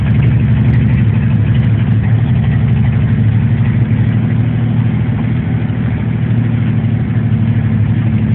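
A Willys Rural F-75 engine running steadily, a loud, close, low rumbling drone that holds even and unbroken from start to finish with no voices.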